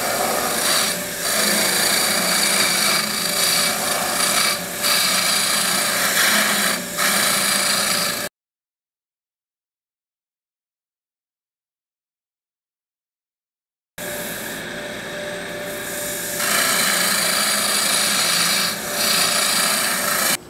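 Gouge cutting a spinning wooden goblet stem on a lathe, a steady loud rasping scrape that runs for about eight seconds, breaks off into silence, then resumes and continues to the end.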